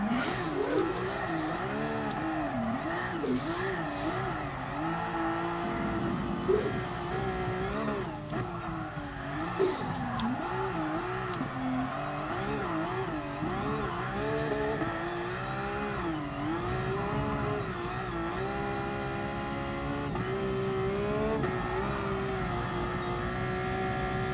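Engine note of a car drifting around the Nordschleife in the video game GT Sport, revs rising and falling in continuous wavering sweeps with tire squeal, loud and sustained with no talk over it.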